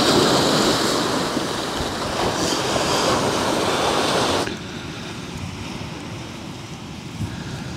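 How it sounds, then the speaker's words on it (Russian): Sea surf on the Crimean coast near the Generals' beaches, a continuous broad roar mixed with wind that drops to a softer wash partway through. "Сейчас Оксана увидит бескрайнее море."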